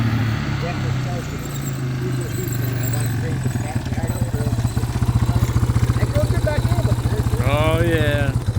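A vintage Yamaha ATV engine, just started, settles into a steady, rapid, close-up putter. A voice cuts in briefly near the end.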